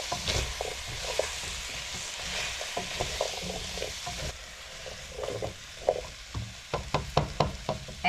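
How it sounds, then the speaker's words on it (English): Spiced potatoes with cumin sizzling in a hot pan while being stirred, a steady close frying hiss broken by repeated scraping knocks of the spoon, which grow sharper and more frequent toward the end. "Let me give that a mix first."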